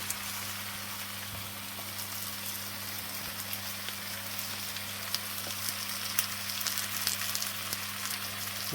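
Marinated deer meat sizzles and spits in a hot pan as a dense, even crackle, close and continuous, with a low hum beneath and no voices.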